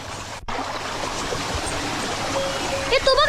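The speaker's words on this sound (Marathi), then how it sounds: "धबधब्याचा आवाज येतोय म्हणजे नक्की ते जवळपास धबधबा असणार" A waterfall pours nearby in an outdoor setting as a continuous broadband rush. Toward the end a bird calls several times over the water noise.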